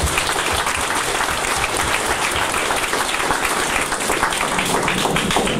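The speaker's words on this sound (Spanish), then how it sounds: "Un aplauso para todos nuevamente" A crowd at a community gathering applauds after a speaker's thanks, a thick, continuous wash of many hands clapping at even loudness throughout.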